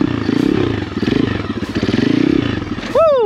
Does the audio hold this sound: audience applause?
no